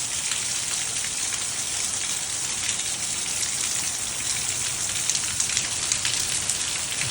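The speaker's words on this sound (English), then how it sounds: "Raining like crazy." Heavy rain pouring down on a street that is starting to flood, a thick, unbroken roar of drops splashing on hard surfaces, loud and steady throughout.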